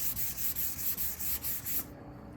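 Hand sanding on a Fesley kit guitar body being refinished, quick rhythmic back-and-forth rubbing strokes, close and fairly quiet, about eight strokes before stopping.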